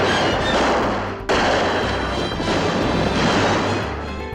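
Gunfire from a shootout scene in the film True Grit: a dense burst of loud, overlapping shots with echoing reverberation, including one sharp report near the middle, and no voices.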